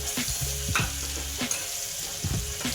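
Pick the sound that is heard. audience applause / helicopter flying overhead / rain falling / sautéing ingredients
sautéing ingredients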